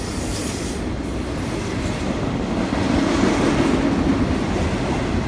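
A long freight train rumbles steadily past close by, a continuous low roar of wheels and cars that swells slightly louder toward the end.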